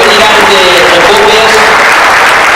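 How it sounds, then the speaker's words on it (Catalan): Loud, steady applause from a gathered crowd welcoming champions Xavier Jové and Ramona Gabriel, dense clapping filling the whole stretch with voices mixed in. "I un bon aplaudiment, que és ben bonic"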